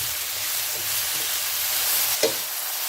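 Shrimp sautéing in a pan give a constant loud sizzle, with stirring scrapes and one sharp utensil tap against the pan near the end.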